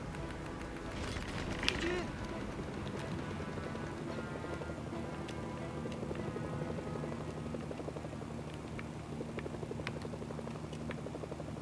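Steady helicopter rotor drone from the video game Mercenaries: Playground of Destruction runs throughout, with game effects and occasional bursts layered over a constant low hum.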